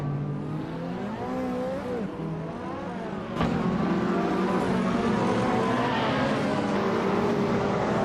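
A 1987 Porsche 959 race car engine in a racing video game drones loudly and steadily, its pitch sweeping up and down through gear changes, with a sharp jump in volume partway through and no voices.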